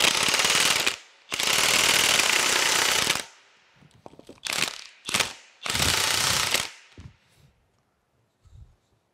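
A ratchet works loose the bolts on an old sugar cane mill during restoration, long loud rapid clicking bursts broken by pauses and a few shorter spurts, close up, with no talking.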